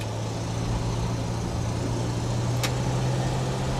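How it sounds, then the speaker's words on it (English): A 1952 Buick Super Model 59 woody estate wagon is under way, heard from inside as a steady, low, quiet engine and road hum with one brief faint click. "I'm going to turn this off so you can hear the car."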